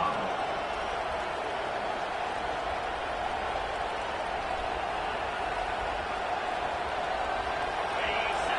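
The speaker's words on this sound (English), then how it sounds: "This crowd bringing the energy and noise early" A stadium crowd roars steadily at a Colorado football game against the Gamecocks, a dense, continuous wash of cheering and noise that holds at an even level without breaks throughout.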